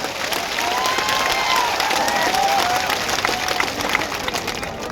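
A political rally crowd in Tharad breaks into sustained applause for Jignesh Mevani, dense steady clapping swelling and holding at a strong level throughout.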